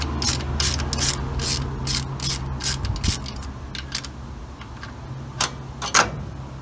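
Ratchet wrench clicking as it loosens alternator bracket bolts on a small-block Chevy 350, quick bursts of sharp close-up pawl clicks with short pauses between strokes.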